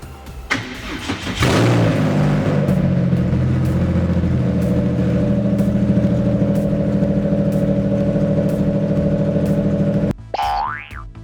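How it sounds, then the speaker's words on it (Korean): A 2022 Super Race GT1 race car engine, its exhaust work unfinished, cranks and fires up with a sharp roar, then settles into a loud, rough, steady idle before cutting off. "지금 이 자동차도 시동이 걸리나요?"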